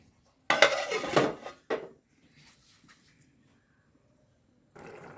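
A lid goes onto a cooking pot while making rasakalan, with a sharp metallic clatter and a second brief clink, then near silence before a faint rustle at the end.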